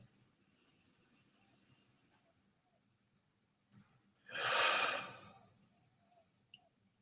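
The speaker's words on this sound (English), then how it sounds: "Take a few really deep breaths and just relax on each exhale." A single deep, relaxed exhale flows out as a soft, breathy whoosh lasting under a second, close and quiet, framed by a faint click before it and another after, in an otherwise hushed, still room.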